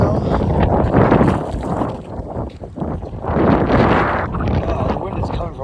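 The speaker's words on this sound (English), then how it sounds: "The wind is still very violent today. Very windy." Strong wind buffeting outdoors on a cold day after snowfall, loud roaring gusts that swell and ease, close and rough against the microphone, with a person talking over it.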